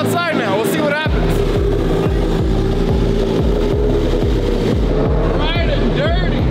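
A car engine, just brought to life after a jump start, idles with a steady low rumble and a rhythmic pulsing throb, while people talk over it close by.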